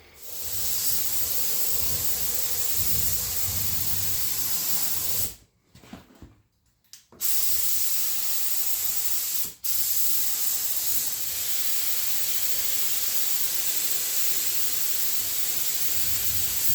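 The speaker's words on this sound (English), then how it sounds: "I just got to pick them up and spray them." Spray gun at low pressure painting a firewall and parts for the VIC100 project, hissing loudly and steadily in long bursts, with a brief gap near the middle and a quick pause later.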